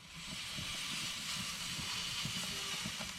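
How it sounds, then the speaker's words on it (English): A steady, quiet sizzle of smoked deer link sausages frying, a continuous hiss with faint pops and crackles underneath. "Listen to the sizzle."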